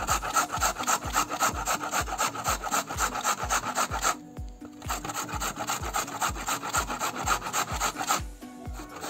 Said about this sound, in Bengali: এখন আমি এই বাগান আঁশটা ঘষে নেবো পয়লা